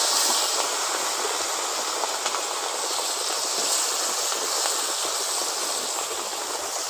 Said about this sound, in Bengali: ওই তেলের মধ্যে এখন মাছগুলো দিয়ে দিচ্ছি। মাছগুলো দিয়ে ভালো করে ভেজে নেব।